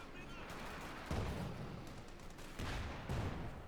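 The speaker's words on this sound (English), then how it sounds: "Shots fired." Gunfire in the wartime strategy game Company of Heroes 2: several distant bursts and thuds over a steady battle ambience, fairly faint, with no clear talk.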